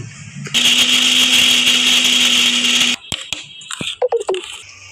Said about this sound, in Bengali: এলা বাদামটারে ব্লেন্ডারে পেস্ট কইরা তারপরে ওইটার মধ্যে মিলাই দিব।